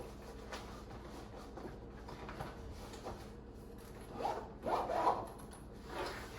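A small zip case for a drone being unzipped, soft rasping zipper pulls that grow louder in a few short strokes near the end, close by and without talk.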